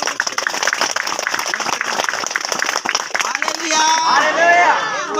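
Audience applause at a church meeting in Narayanpur, a dense burst of clapping that fills most of the clip and then gives way to crowd noise and a speaker's voice.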